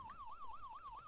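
A police car siren from the video game Police Quest 1 wails in a fast, regular up-and-down cycle, faint but clear and alone, with several sweeps in about a second.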